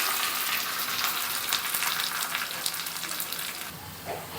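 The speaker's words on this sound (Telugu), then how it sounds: "ఇలా కరివేపాకు వేసిన తర్వాత ఒక్కసారి కలిపేస్తాం." Curry leaves sizzle and crackle in hot oil while tempering drumstick dal, a steady close frying hiss with a faint stir near the end and no talking.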